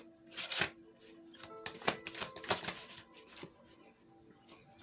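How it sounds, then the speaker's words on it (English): Oracle cards being shuffled by hand in short papery riffles and flutters, several bursts of quick slapping card sounds with brief pauses between, close and fairly soft. "Let me shuffle one more time."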